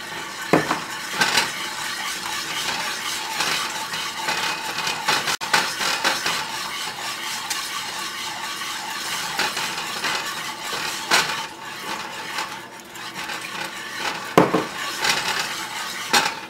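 Utensil scraping and stirring chicken in a pan while making Filipino-style fried chicken, with clinks of metal on the pan and a faint sizzle running steadily throughout, no talking.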